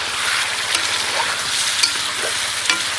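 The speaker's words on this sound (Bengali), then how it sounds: "এইবারে হচ্ছে আমাদের সাতাতে মাছ কষানো।" Pieces of fish sizzle and crackle in hot oil in a wok, a steady close hiss with small pops and occasional scrapes of stirring, and no talking.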